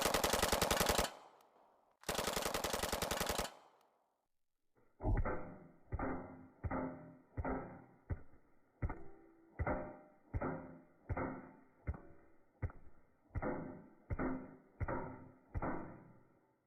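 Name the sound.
submachine gun firing at ballistic shield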